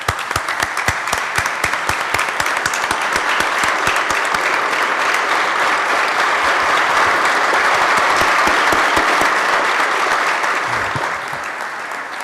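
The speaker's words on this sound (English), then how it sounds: "let's give them a round of applause" Sustained applause fills the New York State Senate chamber, dense steady clapping from many people lasting throughout and tapering slightly at the end.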